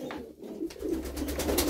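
Domestic pigeons coo softly in a coop during evening feeding, a continuous low murmur of overlapping calls from several birds nearby.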